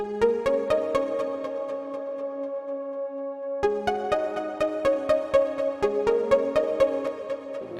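A synth arpeggio inside a beat: quick repeating plucked notes cycling over a sustained chord, with a crisp ticking percussion pulse, steady and moderately loud, with a short lull in the pulses midway.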